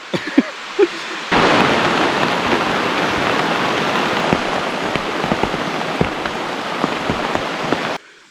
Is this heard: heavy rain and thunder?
yes